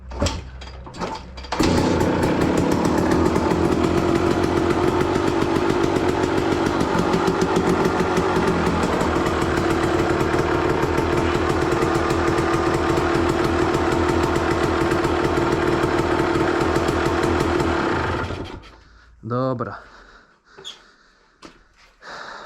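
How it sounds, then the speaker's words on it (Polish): A KTM two-stroke motorcycle engine, freshly rebuilt with a new piston, starts up and runs loud and close for about sixteen seconds with a steady raspy idle, then cuts off, leaving a few faint knocks. "Ładnie odpala, kurwa, obroty trzyma."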